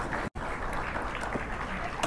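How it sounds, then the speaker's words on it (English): Scattered applause rises from a chess tournament playing arena in Singapore, a dense, steady patter of clapping heard at a distance with a brief dropout early on. "I think we can hear some applause in the background, in the playing arena in Singapore"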